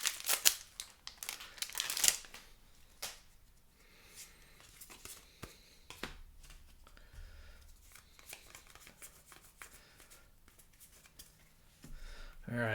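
Crinkly foil wrapper of a Streets of New Capenna trading card pack torn and crumpled open by hand, close and fairly quiet, with a sharp louder rustle early on, then softer intermittent crinkles and card handling.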